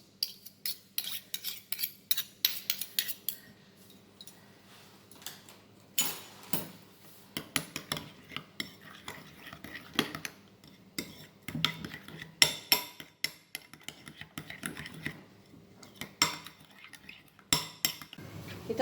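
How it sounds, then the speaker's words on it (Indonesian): A spoon scrapes and clinks against a bowl, stirring a thick sauce of mayonnaise and chili sauce in bursts of metallic taps and smears, fairly close, with no talking. "4 sendok saus mayo dicampur dengan 1 sendok saus cabai"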